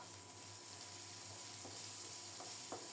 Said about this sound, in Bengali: পেঁয়াজগুলো লালচে হয়ে ভাজা হয়ে গেছে, আলুগুলিও খুব সুন্দর মতো ভাজা হয়েছে।